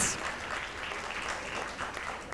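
Faint, even applause from a conference audience greeting speakers as they are introduced at a digital transformation event, continuous and distant with no clear voices.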